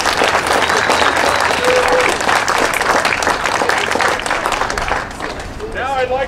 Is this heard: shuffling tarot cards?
no